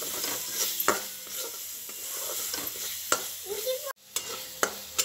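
Masala frying in oil in a pan for a sprouted moth bean curry, a steady close sizzle broken by repeated spoon stirs and scrapes against the pan, with no talk.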